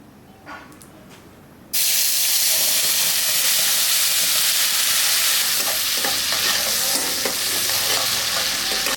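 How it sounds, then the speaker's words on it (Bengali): Tomato paste hits hot oil already tempered with nigella seeds and whole dried red chillies after frying fish, bursting into a loud, steady sizzle after a quieter start, with stirring scrapes throughout. "আমাদের টমেটো ভাজা কমপ্লিট হয়ে গেছে"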